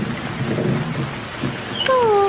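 In a Hindi cartoon, heavy rain hisses steadily under a low rumble of thunder, followed near the end by a brief high, gliding tonal sound.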